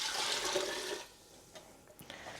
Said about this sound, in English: Now I'm going to add in the rest of the stock.